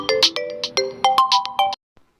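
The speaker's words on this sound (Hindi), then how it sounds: "तभी उनका फ़ोन रिंग करता है।" A mobile phone plays a melodic electronic ringtone, a quick run of bright chiming notes for under two seconds, then stops abruptly into silence.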